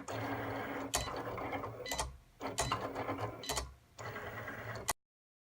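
Cricut Explore Air 2 cutting machine slicing a rhinestone template from heat-transfer vinyl, with steady mechanical whirring from its carriage motor, broken by a few sharp clicks and short pauses as the head changes direction, close and fairly loud with no talk.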